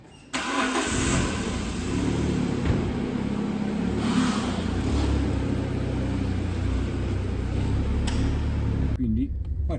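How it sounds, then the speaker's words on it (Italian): An Alfa Romeo 105 starts up and runs on a road test drive, its mid-pitched engine droning steadily at close range, then cutting off near the end. "salite in macchina insieme a me e andiamo anche a fare un giro di prova su strada"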